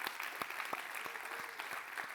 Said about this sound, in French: applaudissez Jay qui a fait un job incroyable sur les médias sociaux